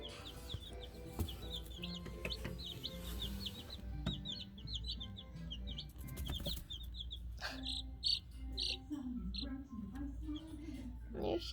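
A young hen about two weeks old tending a small flock of chicks in a brooder, with steady high peeping and soft clucks, while a person talks quietly nearby.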